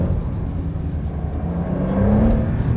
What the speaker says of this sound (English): So if I squeeze the throttle, it's instantly there.